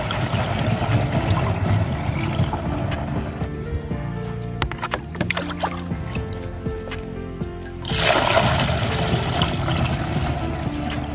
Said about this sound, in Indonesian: Kemudian ini jerigen ini diisi air full kawan ya.